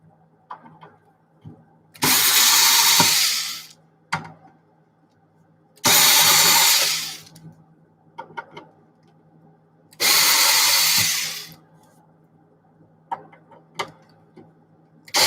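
A power drill driving screws back into a piece of equipment, heard as three loud whirring bursts of about a second each, separated by quiet clicks and handling noises close by.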